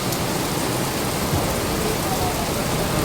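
Heavy rain falls in Slovenia with an unbroken wash of drops pattering on nearby surfaces, loud and uniform from start to finish, with nobody talking.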